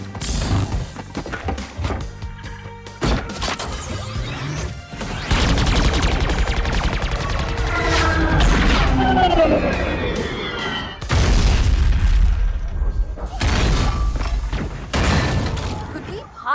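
Rocket launcher fire and blasts in Halo 2, as Master Chief shoulders the weapon: a dense run of loud booms and crackling impacts with sustained roaring stretches, layered over game effects and music.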